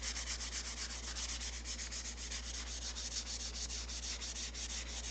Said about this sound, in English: Use that sanding tool.